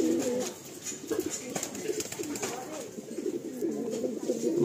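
Kolkata racing pigeons coo in repeated low, warbling phrases close by, a steady murmuring chorus with a voice speaking faintly over it.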